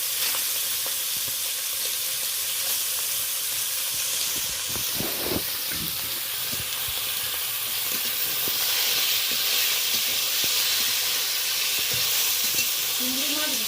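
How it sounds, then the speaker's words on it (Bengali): Shrimp fry in hot oil with a steady, loud sizzle and hiss, broken around the middle by a few sharp crackles and stirring clatters, continuing evenly to the end. "তেলটা বেশ গরম হয়ে গেছে, এবার আমি চিংড়ি মাছগুলো তুলে দিলাম ভেজে"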